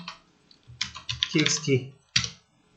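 Computer keyboard typing, close and clear: a few key presses, then a dense burst of keystrokes and a final single tap.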